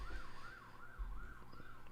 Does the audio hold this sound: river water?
no